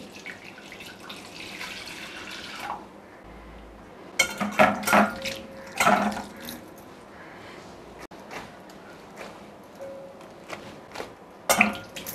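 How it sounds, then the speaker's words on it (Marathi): Plain water pours and splashes in short bursts onto flour on a cleaned kitchen counter, ready for kneading modak dough. The trickles come close and moderately loud, with quieter gaps between them and no talking. "इथे मी साधा पाणी घेतलेला आहे मळण्यासाठी"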